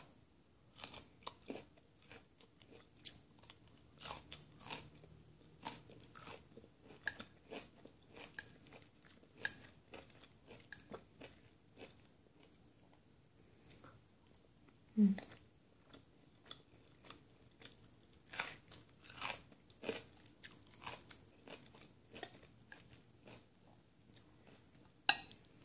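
Close, crisp chewing and biting of crunchy stir-fried vegetables, asparagus and kimchi with rice, with irregular crunches and wet mouth sounds throughout and no talking.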